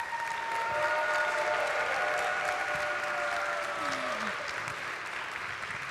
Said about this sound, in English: A round of applause for all of these people, please.